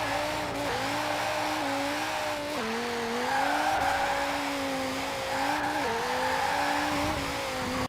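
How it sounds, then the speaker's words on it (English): Dodge Viper in Forza Horizon 4 revving hard as it accelerates, its engine tone rising and dipping through gear changes while the rear wheels spin and tires squeal steadily throughout, loud and close with no talking. "the Dodge Viper sounds cool, it accelerates nicely, and even though it's rear wheel drive and can, it spins quite a lot."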